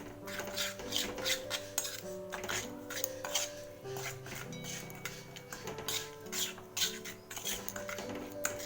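Salt, sugar, turmeric and spices being stirred into oil in a cooking pot, with repeated metallic scrapes and taps of a spoon against the pot in an uneven rhythm, close and fairly quiet, while faint background music plays.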